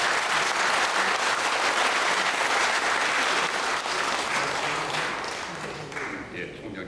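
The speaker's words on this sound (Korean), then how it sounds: "뜨거운 박수로 보내주십시오" A hall of people at a Korean breakfast worship service breaks into warm, sustained applause that fills the room, then gradually thins out toward the end.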